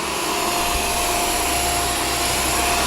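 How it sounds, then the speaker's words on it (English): Steady, loud motor whine and suction roar of a renewed Shark Stratos vacuum cleaner running on carpet, continuous and close with no talk. "this is what you get with the renewed Stratos vacuum."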